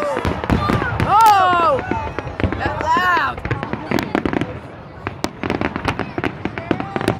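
Fireworks crackling and popping repeatedly while people nearby shout and cheer excitedly over the bursts.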